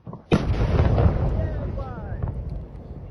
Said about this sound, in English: The explosive force produced by the explosion at Tikhoretsk was extreme